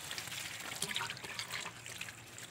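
Water running from a garden hose during a car radiator flush, a soft continuous trickling stream with light splashing, steady and fairly quiet.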